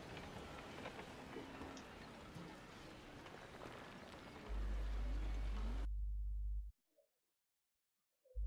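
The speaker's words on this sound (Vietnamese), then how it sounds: "Trời mưa." Steady rain falls across a battlefield in Napoleon Total War, a dense hiss of drops on the ground for about six seconds, then a low booming burst before near silence.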